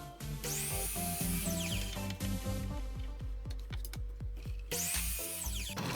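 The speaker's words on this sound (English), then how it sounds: "And then drilled some holes for the knobs there." A power drill bores holes into a piece of scrap wood for knobs, a steady whirring drone with rising and falling pitch sweeps, close and continuous, with no speech.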